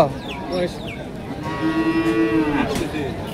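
At a busy cattle market a cow lets out one long, loud, drawn-out moo close by, heard over the background murmur of the crowd.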